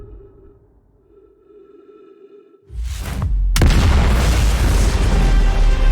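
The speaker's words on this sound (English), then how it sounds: "Oh, looks like we're having a new Big Bang." A massive Big Bang explosion in the space exploration game Outer Wilds: a quiet ambient drone, a rising whoosh, then a sudden loud boom that swells into a sustained roaring rumble with no voices.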